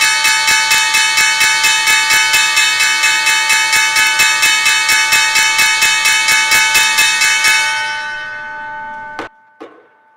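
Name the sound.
stock market closing bell ringing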